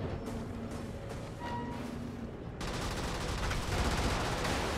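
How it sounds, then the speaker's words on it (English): Rapid turret gunfire from the video game Brigador: Up-Armored Edition, a dense, continuous fusillade of mechanical shots that swells louder about halfway through over steady game noise. "Blast that guy with the turrets."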